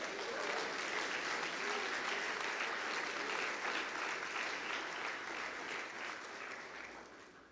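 A church congregation applauds during a family worship service, a steady sustained wash of clapping from many hands that slowly fades toward the end.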